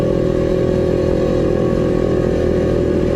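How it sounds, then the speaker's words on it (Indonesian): A Honda CBR 250RR motorcycle engine revs loud and close, holding a steady, dense high-pitched buzz throughout with no voices. "Tapi ya CBR 250RR ini suaranya juga nggak kalah, lumayan enak."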